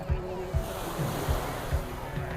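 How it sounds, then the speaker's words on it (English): Warm surf washing in at the shoreline of Fort Lauderdale Beach, Florida, recorded from ankle-deep water with soft wind noise, small waves breaking and rolling in a steady rhythm every half second or so, close and moderately loud. "I made it out to the shoreline here. I'm actually standing in the water"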